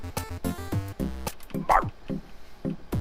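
A human voice imitates a small dog's little barks for a 3D animated dog, giving a quick series of short, close yips and woofs with brief gaps between them.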